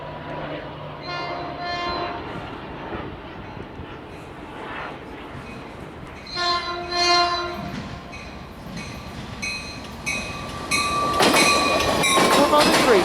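Scout Train 264 passes College Park station, sounding repeated loud horn blasts, then a rising rumble and wheel clatter as it draws near. Someone talks now and then over it.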